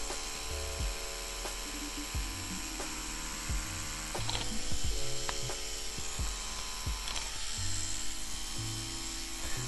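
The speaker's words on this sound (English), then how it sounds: "let's get into making some lines with this rotary" A rotary tattoo machine runs steadily with a close, continuous mechanical whir and buzz while it draws lines on fake skin, with faint intermittent scraping ticks over the hum.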